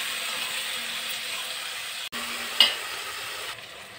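Brinjal and tomatoes cook in a pan with a soft steady sizzle and a faint hum, broken by a brief pause and a single clink of a utensil near the end.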